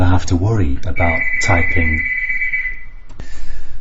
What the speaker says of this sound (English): that was my doorbell going there